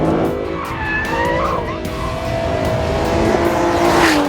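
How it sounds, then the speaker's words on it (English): A GT sports car, either an Aston Martin Virage or a Mercedes SLS AMG, slides under aggressive throttle and opposite lock, with loud sustained tyre squeal wavering in pitch over its engine note, close up throughout. "if you dial in loads of opposite lock, if you're really aggressive with the throttle, you can make it slide"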